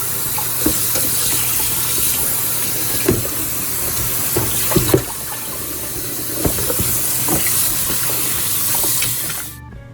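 Tap water runs steadily into a sink while raw chicken is rinsed of its salt-water brine, with occasional soft splashes and knocks over the constant rush, close up.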